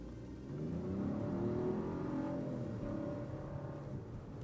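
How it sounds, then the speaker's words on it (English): A 2025 Chevy Trax engine revs up as the vehicle accelerates, a steady mid-pitched whir rising in pitch and then holding, heard from inside the car. "Not super quick, and it took a good bit to accelerate right there."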